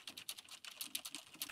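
Typing on a Corsair K70 mechanical keyboard picked up by a Roccat headset microphone: quick, irregular key clacks in a rapid patter, faint and recorded close with nothing else audible.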